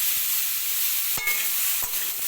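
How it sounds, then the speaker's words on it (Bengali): Papaya and potato pieces coated with turmeric sizzle steadily in hot oil for a soybean curry, with a couple of sharp spoon or spatula scrapes as they are stirred. "এইভাবে একটুখানি নাড়িয়ে চাড়িয়ে আমি সবজিগুলোকে হালকা ভেজে নেব"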